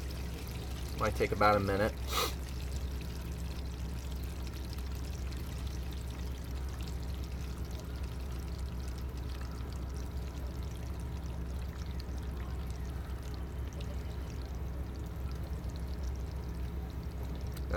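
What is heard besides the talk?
RV holding tank being dumped, water draining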